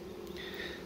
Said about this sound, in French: Vous voyez comment ils font les abeilles.